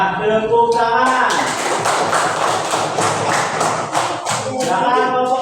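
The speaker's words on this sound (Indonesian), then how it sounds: "Ya, tepuk tangan." Classroom audience applauding a group's dried-leaf calligraphy collage, a dense burst of hand clapping lasting several seconds, with talking at the start and end.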